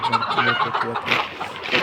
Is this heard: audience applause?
no